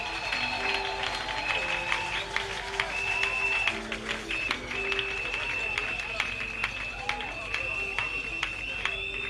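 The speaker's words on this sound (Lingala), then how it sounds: "bobeta maboko pona armada" Crowd applauding and clapping hands at a church gathering with a pastor present, scattered sharp claps rising through a busy mix of music and voices.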